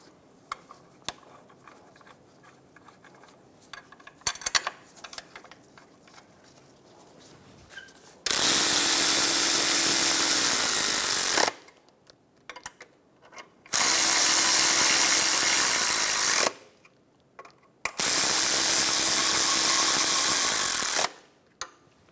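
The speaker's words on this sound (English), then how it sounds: "Torque the plate bolts to 18 foot-pounds." A power tool tightens the oil pan plate bolts on a 2012-2020 Chevrolet Sonic during an oil pressure switch replacement. After quiet handling noises come three loud, close, sustained bursts of a few seconds each, separated by short pauses.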